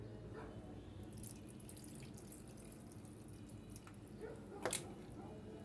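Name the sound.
water poured into cooking pot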